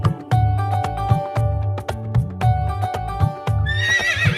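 Horse neighing loudly and close over a steady rhythmic clip-clop of hooves, with a high whinny rising near the end.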